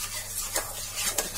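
Wheat atta halwa with sugar being stirred in a pan, giving soft scraping sweeps with two brief louder strokes over a low steady background.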